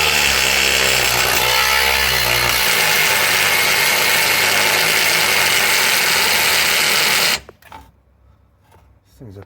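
A Ryobi power tool grinds loudly and continuously through a bump stop on a 2005 Town and Country minivan, a harsh high-pitched whine for about seven seconds before cutting off abruptly into quiet clatter.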